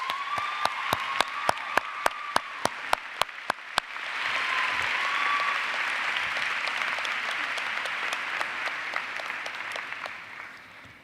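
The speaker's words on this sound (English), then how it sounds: "Please join me in welcoming Marana with a round of applause." Applause from a college commencement audience at the College of Saint Benedict, opening with about a dozen distinct, evenly spaced claps before swelling into sustained, dense clapping from a large crowd that fills the rest of the clip.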